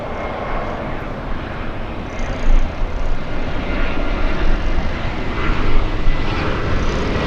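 A JetBlue airliner arriving at Los Angeles airport gives off a steady, loud engine roar that holds throughout with slight swells, broad and rumbling with no voices over it.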